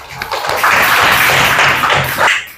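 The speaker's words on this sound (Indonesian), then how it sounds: "Ya, tepuk tangan." A classroom of students claps hands together, a dense fairly loud burst of applause that swells and holds for a couple of seconds before tapering off, with a few scattered voices underneath.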